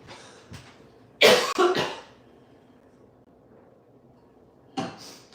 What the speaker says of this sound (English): And here I go with the coughing again.